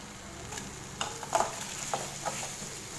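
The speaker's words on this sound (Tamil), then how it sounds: "பச்சை மிளகாய் வரமிளகாய் சேர்த்து மீடியம் ஃப்ளேம்லேயே வச்சு வதக்கிட்டேன்" Tomato sautés on a medium flame with green chillies and dried red chillies, a soft steady sizzle with a few scattered knocks and scrapes from stirring.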